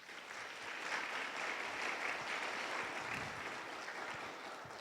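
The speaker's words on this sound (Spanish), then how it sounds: "Démosle palmas al Señor." Church congregation applauding steadily for several seconds, a dense even wash of clapping filling the room, with no voices over it.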